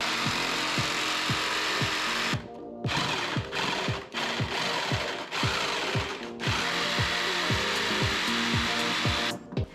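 A power tool trims the center console of a Jeep Wrangler with a fast, regular, rattling buzz that stops briefly several times. The cutting is close and loud, and nobody speaks.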